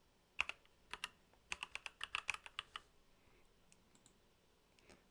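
Fast bursts of keystrokes on a computer keyboard while typing code, crisp close clicks in quick clusters with short pauses between, alone with no talk.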